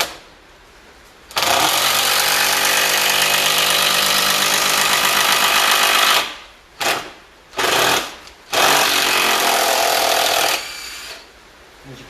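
A Festool TID 18 impact driver rattles loudly in a long continuous burst, then several short hammering bursts follow as the screw is driven into wood, splitting it.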